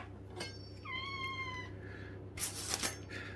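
A cat meows once clearly in a home kitchen, a short rising-falling cry, with faint clatter and bumps around it over a low steady hum.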